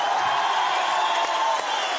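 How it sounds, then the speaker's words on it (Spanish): Audience applause at a lively gathering, a steady dense wash of clapping that holds evenly from start to finish with no voices on top. "mandarle un fuerte aplauso a Papá Dios"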